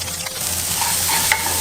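Sweet potato leaves being stirred in a hot pan, a steady close sizzle with scraping strokes of the utensil and no talking.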